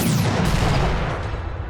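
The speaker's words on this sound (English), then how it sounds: "So, artillery, open up." Artillery opening fire in a strategy video game, a loud continuous roar of heavy booms and rumbling blasts that slowly fades, with no talking.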